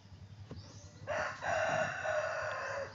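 A rooster crows once, loud and drawn out, over a background of quieter chicken clucks and farm ambience on a pasture-raised chicken farm in early morning.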